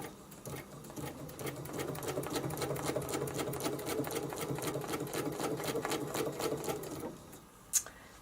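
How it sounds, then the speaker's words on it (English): A sewing machine runs steadily, stitching around a quilt template shape, its rapid even needle rhythm close and continuous for about seven seconds before stopping, followed by a brief click. "now I'm going to stitch around this shape and come back to where I am"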